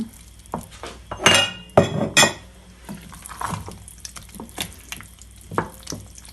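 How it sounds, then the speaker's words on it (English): Chopped lobster stirred into mac and cheese makes close, irregular scrapes and clinks of a utensil against a pot, in bursts with short pauses between them. "Stir it in nicely."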